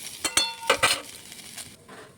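Taro stolons sizzle as they fry in a pan while a utensil stirs and scrapes, several clinks and scrapes in quick bursts, then the sizzle fades quieter.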